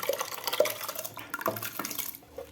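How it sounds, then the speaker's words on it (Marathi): Water pours and splashes into a pressure cooker holding soaked wheat, with a few light knocks of the metal pot in a quiet kitchen. "या कुकरमध्ये आपल्याला हे पाणी आणि गहू घालून घ्यायचे आहेत"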